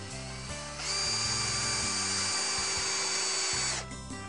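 A power drill drives lag screws into the wooden crossbeams of a garden pond bridge, whining steadily at high pitch for about three seconds, close and loud, between quieter idle passages.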